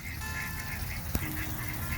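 Nesting geese and ducks honk at someone in their pen, a steady close chorus of harsh calls that carries on without a break.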